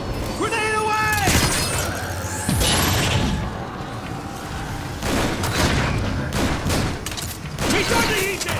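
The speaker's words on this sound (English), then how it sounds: "Grenade away!" A grenade goes off in Transformers: War for Cybertron, among booming blasts and bursts of weapon fire, with mechanical clanks and a shattering crash mixed into the loud, busy battle.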